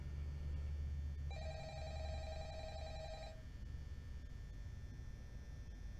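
A single telephone ring in Five Nights at Freddy's chimes for about two seconds, bright and buzzy, over a faint steady background hum with no voices.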